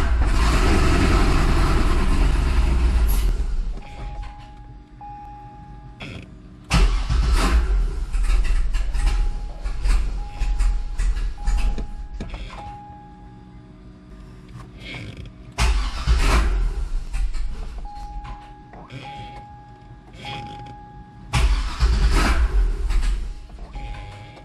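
A 2005 Chevrolet Corvette engine cranks repeatedly without firing, with loud, rhythmic starter grinding in several separate bursts and pauses between attempts.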